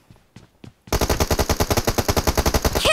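Rapid automatic gunfire in a mobile battle royale game, a loud sustained burst of evenly spaced shots after a few faint earlier pops.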